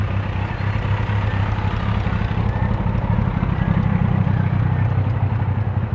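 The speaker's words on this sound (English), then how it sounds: "Wow. Yeah, motorcycles." Motorcycles rumble past on a street, a continuous loud low engine drone that swells and fades slightly over several seconds.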